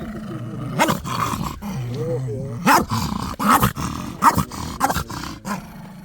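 A dog growls and snarls in repeated bursts, close and aggressive, with a voice speaking in between.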